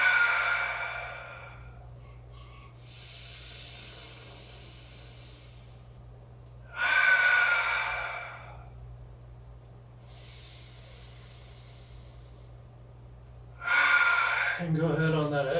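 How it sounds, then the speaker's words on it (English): Three slow, deep breaths during a stretch for loosening the hips and ankles, each a loud airy inhale or exhale separated by quiet pauses, close to the microphone over a low steady hum. "Breathing deeply, 3 deep breaths here."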